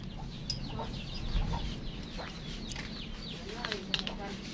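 Chickens cluck quietly and repeatedly in a farmyard, with scattered short calls over a steady low background murmur and some talking.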